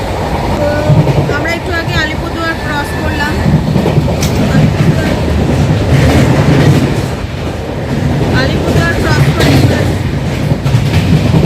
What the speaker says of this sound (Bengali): পুরো স্পিডে ট্রেন যাচ্ছে এখন